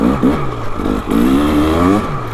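2025 KTM 300XCW Champion Edition dirt bike ridden on a trail, its two-stroke engine buzzing close and loud, with short throttle blips and then a steadier rev, plus light clatter.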